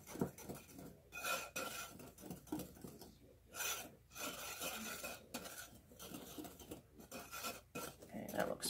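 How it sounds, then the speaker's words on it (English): Whisking gluten-free pumpkin batter in a bowl, with steady close scraping and rubbing strokes of the whisk against the bowl in an irregular rhythm, no talking. "we're going to just whisk that together"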